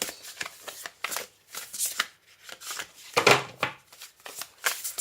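A thick deck of heavy oracle cards is shuffled by hand in repeated bursts of riffling and slapping, close and crisp, with brief pauses between the shuffles.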